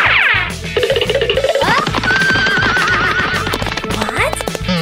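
A cartoon horse whinnies loudly several times over rapid, rhythmic hoofbeats of galloping, with a busy, close-up cartoonish feel throughout.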